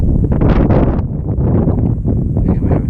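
Wind buffeting a microphone on open water while kayaking, a loud rumbling, gusty roar that stays close and continuous without letting up.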